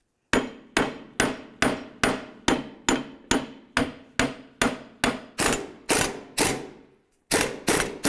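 A hammer strikes the lower ball joint and steering knuckle of a 2002-2006 Honda CR-V in a steady run of about sixteen sharp metallic blows, close and loud, with a brief pause before the last few.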